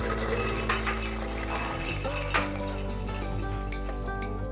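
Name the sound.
water poured into pressure cooker with soaked peas and chickpeas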